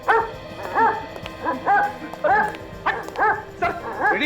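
A dog barks and yips repeatedly in quick, uneven bursts, close and loud, in a rural village setting, with some voices faintly underneath.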